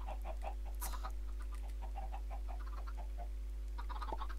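Chickens cluck in quick, uneven bursts at an automatic chicken farm in the video game Minecraft, many small clucks scattered throughout over a steady low hum.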